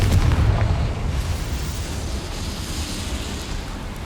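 A steam boiler blows apart under a Confringo fire spell in Hogwarts Legacy, a heavy booming blast at the start that fades into a long rumbling, hissing tail, loud and up close with no voices.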